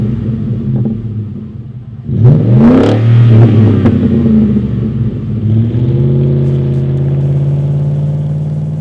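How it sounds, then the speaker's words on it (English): A Ford F-150 with its 5.0L V8 and a Solo MACH-X cat-back exhaust idles with a deep rumble, then gets a sharp rev that rises and falls. It settles back into a steady, throaty idle. No voices are heard. "The MACH-X has a clean, mean, and throaty sound."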